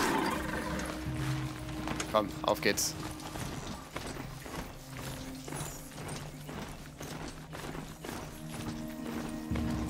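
Horse hooves clip-clop steadily in Horizon Zero Dawn, a rhythmic trot running under game sounds and a man's brief German speech.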